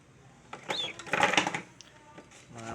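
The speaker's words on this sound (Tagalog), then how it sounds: "May machine sa tattoo." A tattoo machine gives short, irregular mechanical buzzing and rattling bursts up close, louder in the middle and fading toward a thin hum at the end, with no voices.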